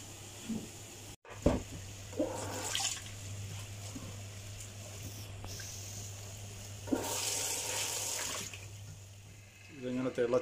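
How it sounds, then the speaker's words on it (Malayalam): Prawns are rinsed in water in a kitchen, with soft splashing and running-water bursts that come and go, fairly faint, under a steady low hum and occasional quiet talking. "ചെമ്മീൻ എടുത്തിട്ട് തന്നെ വെള്ളത്തിയിട്ടൊന്ന് കഴുകണം"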